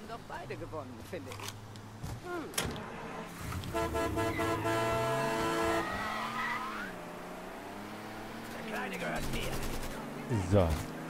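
A car driving in Mafia III, engine hum rising and falling with a horn toot, tire skids and bursts of gunfire, while someone talks over it.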